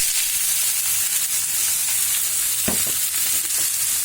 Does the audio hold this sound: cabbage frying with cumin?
yes